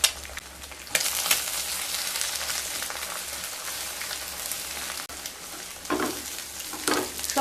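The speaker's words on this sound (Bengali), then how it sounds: "পেঁয়াজ আর রসুন হালকা ভাজা ভাজা হয়ে গেলে ওই একই প্যানের মধ্যে একটা ডিম ভেজে নেব।" Egg frying with onion and garlic in a pan, a steady close sizzle with a few louder bursts and crackles partway through, no talk.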